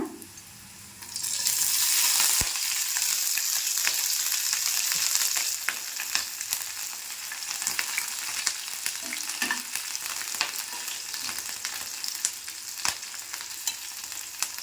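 Garlic and green chillies fry in hot oil in a pan for tomato gojju. A loud sizzle bursts up as they go in, then settles into a steady crackle with occasional stirring clicks, and no one speaks.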